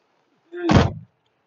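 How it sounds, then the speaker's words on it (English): A door swings shut with one short, solid thump, close and loud, standing alone in a quiet space. "You gotta shut the door."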